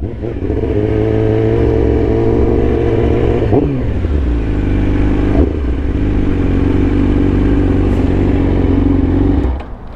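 A Yamaha R6 track motorcycle on slick tyres runs loud and close, its engine droning steadily with a couple of quick revs that swing the pitch up and back down before it settles into a smooth idle-level hum.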